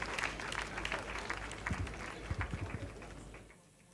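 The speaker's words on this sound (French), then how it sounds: "des applaudissements pour l'encourager." Audience applause at an awards evening, dense steady clapping with a few louder claps standing out, fading near the end.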